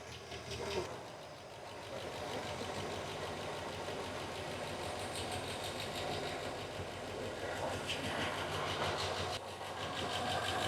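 A drag car engine idles steadily as it warms up, a continuous mid-pitched rumble with a bright hissing layer, holding fairly even over the whole stretch with slight swells in level.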